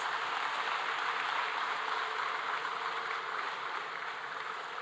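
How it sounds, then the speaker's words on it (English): Graduates and guests at a university departmental degree ceremony applaud the MS graduates with a continuous, even wash of clapping, fairly soft and distant, steady for the whole stretch. "Let's give a big round of applause to all the MS graduates."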